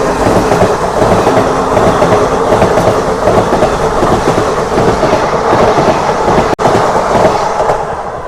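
A MEMU passenger train pulls out of Obulavaripalli Junction in the rain, heard from on board on the Renigunta to Kadapa line. A steady, loud rumble of rolling wheels with clickety-clack runs throughout, with one sharp break near the end.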